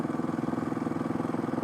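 A Kawasaki KLX 351 big bore motorcycle engine on a break-in ride, a steady close mid-pitched thrum with a fast even pulsing rhythm.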